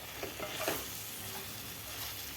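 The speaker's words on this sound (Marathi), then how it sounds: "आपल्याला व्यवस्थित परतून घ्यायचे आहेत 1 मिनिट खालच्या मसाल्यामध्ये" Eggs sauté in masala in a kadhai for egg biryani, giving a soft, quiet sizzle with a few light stirring scrapes near the start and then an even hiss.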